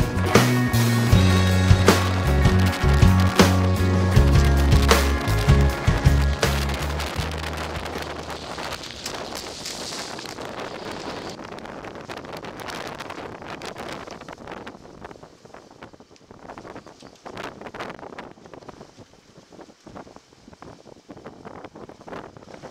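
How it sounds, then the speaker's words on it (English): Strong wind of force 4-6 gusting 7 roars and buffets the microphone nonstop on a sailing boat off Conwy, Wales, loud and gusty at first with music-like tones, then settling into a rougher rushing blast. "the wind began to pick up, 4-6 gusting 7"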